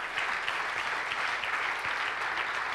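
An audience gives steady, moderately loud applause for a sixth-place finisher in race walking, continuous clapping with no voices over it.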